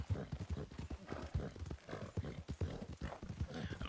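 Steady rhythmic clip-clop of horse hooves on hard ground in the video game Red Dead Redemption 2, close and continuous, with a faint low rumble beneath.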